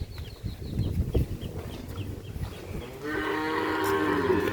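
A young heifer calf in a cattle shed moos with a low, sustained call that rises into a strong harmonic bellow in its final second and a half. Earlier there is scuffling and shed noise, with a faint bird call in the background.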